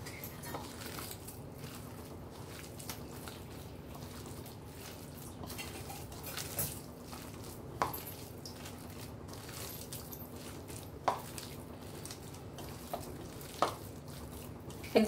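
Poppy seed dough with flour is mixed by hand in a bowl as water is added a little at a time, giving quiet, continuous squelching and scraping with a few sharper clinks against the dish.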